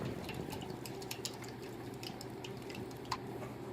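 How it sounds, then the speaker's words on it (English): Jello, pineapple and cranberry sauce mixture poured from a bowl into a pan, a steady soft wet trickle with faint drips and small splashes running throughout at low level. "we're going to pour in our jello pineapple cranberry sauce"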